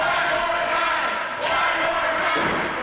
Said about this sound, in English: And the crowd is firmly behind Ryder.